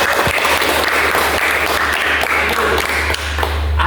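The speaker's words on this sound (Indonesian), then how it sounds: "Tepuk tangan semuanya." A class of students applauds during a religious education lesson on honesty, a steady wash of many hands clapping at close range that fills the whole stretch with little variation.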